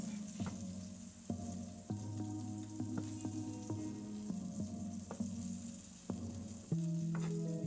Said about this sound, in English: Just trying to brown it, help our crock pot out a little bit, and get some of those flavors.